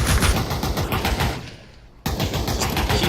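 Rapid gunfire in the tactical shooter Pavlov during a competitive match, dense bursts of shots that drop away briefly before sharp loud firing resumes, with no talk.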